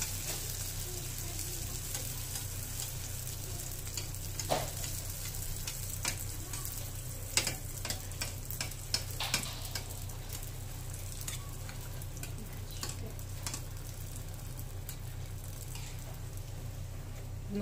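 Sfenj dough frying in hot oil for crisp Moroccan doughnuts, a long even bubbling sizzle with scattered light pops and ticks, fairly quiet and steady throughout, no speech.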